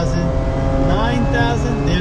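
A Mazda RX-8 rotary engine revs hard in 2nd gear on a climb toward 9,000 RPM, a loud, steady rising whine with the pitch sweeping upward and someone talking over it.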